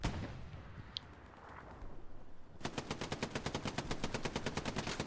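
Machine gun fire in the World War II shooter Hell Let Loose at Utah Beach: after a quiet stretch with a single distant shot, a long rapid burst of close, loud, evenly spaced shots runs to the end.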